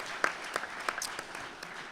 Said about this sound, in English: I think we need to give them a round of applause, please, and say thank you to the Chamber.